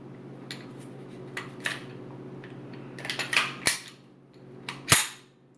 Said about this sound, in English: This is the Walther PPS, the first version. It is unloaded.